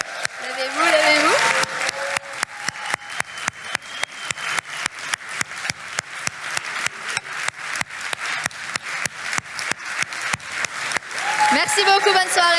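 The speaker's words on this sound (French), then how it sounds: "Je crois que c'est le moment de la standing ovation" An audience at a French-language comedy show gives a standing ovation, with loud, sustained applause and steady rhythmic clapping in unison throughout, and a voice speaking over it at the start and the end.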